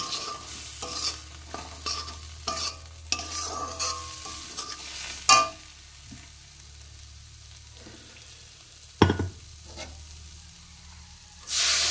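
Turmeric, chili, salt and cumin powder being stirred into potatoes, tomatoes and tempering in a pan for a small-fish curry: scraping spoon strokes and light sizzling, with a few sharper knocks and a louder clatter near the end.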